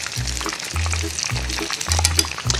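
Nurungji cream shrimp deep-frying in hot oil while being pressed down gives a steady, close crackling sizzle, with a low thump repeating about every half second beneath it.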